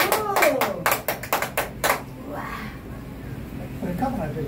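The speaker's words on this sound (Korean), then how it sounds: "아, 박수." A small group of people claps by hand, about eight sharp close claps in a quick irregular burst that stops after two seconds, followed by murmuring voices.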